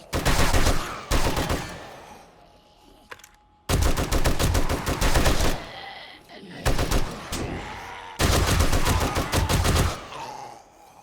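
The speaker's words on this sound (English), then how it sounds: "I love the M60, because it holds so many rounds." An M60 machine gun in the game 7 Days to Die, fired in three long, loud sustained bursts separated by short pauses, with no voices over the gunfire.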